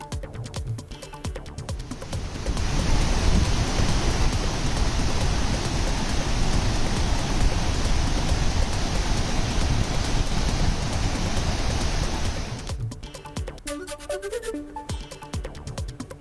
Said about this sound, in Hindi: छत्तीसगढ़ के बस्तर में मूसलाधार बारिश से चित्रकोट और तीरथगढ़ झरने की खूबसूरती बढ़ी।